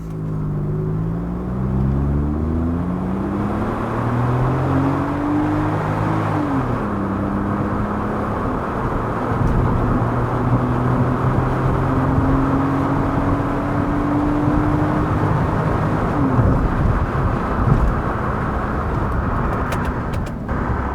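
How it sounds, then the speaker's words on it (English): A 2021 Kia Picanto with an automatic gearbox and front-wheel drive accelerates hard from a standstill to 60 mph. The engine drone climbs steadily in pitch, drops at each gear change and rises again, heard from inside the car for about twenty seconds with road roar building. "Now let me show you how fast this new Kia Picanto can be."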